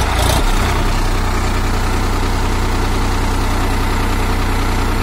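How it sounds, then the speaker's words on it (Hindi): A Solis 5015E 50 hp tractor engine pulling a 9-tine tiller in low gear drones steadily at a constant low rumble, loud and close, after a brief louder burst at the start. "सोलस ट्रैक्टर चल रहा है भाइयों, और 9 का टीलर खींच रहा है"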